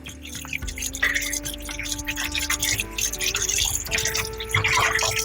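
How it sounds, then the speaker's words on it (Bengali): Pointed gourds are rinsed under running water, with continuous splashing and dripping close by and a faint tonal hum behind it. "এখন এগুলোকে একটু প্রথমে ধুয়ে নেব"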